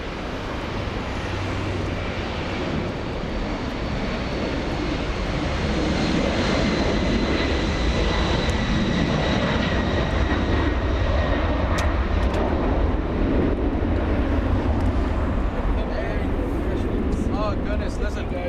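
An Embraer jet airplane at LAX airport roars loud and steady as it passes close by, a continuous engine rush and whine that slowly swells and holds.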